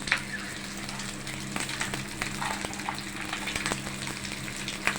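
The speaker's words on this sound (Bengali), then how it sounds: "এদিকে আমার এটা ফ্রাই হচ্ছে।" Whole spices, cloves among them, frying in hot oil for biryani: a continuous close sizzle and crackle with occasional sharp pops and faint stirring clicks, no voices.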